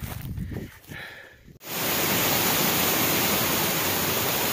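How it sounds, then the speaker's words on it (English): A raging waterfall along the Appalachian Trail roars as a loud, steady, broadband wash that cuts in abruptly after a quieter, breezy outdoor moment. "A little raging waterfall headed up to Irwin."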